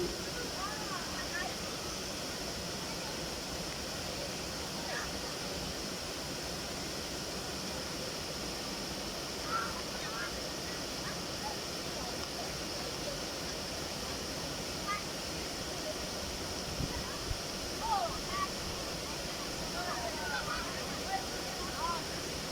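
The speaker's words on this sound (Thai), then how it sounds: "นี่ค่ะบรรยากาศของน้ำตกห้วยจันนะคะ" Huai Chan waterfall in Khun Han, Sisaket, Thailand, roars steadily and loudly, a continuous rushing wash of water with faint scattered splashes and chirps on top.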